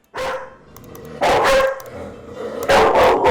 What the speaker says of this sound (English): my dog's making the loudest noise known to man